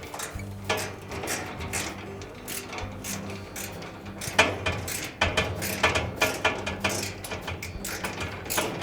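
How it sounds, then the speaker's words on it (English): Metal hand tools clink and ratchet while a 5/16 inch screw is driven back into a Maytag dryer blower cover, a close run of sharp clicks and mechanical rattles with clustered taps and scrapes. "Next, we'll reinstall the 5/16 inch screw. Holds the blower cover"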